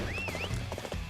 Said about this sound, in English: My gigantic horse.